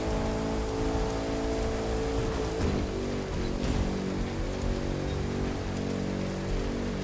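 Car in The Crew 2 racing game accelerating toward full speed, a steady loud engine drone with rising pitch under a thick wash of broadband wind and road noise, no voices.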